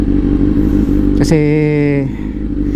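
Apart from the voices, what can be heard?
Kawasaki Z900 motorcycle riding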